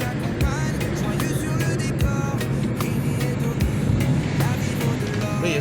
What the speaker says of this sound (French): Il y a quand même des voitures, hein.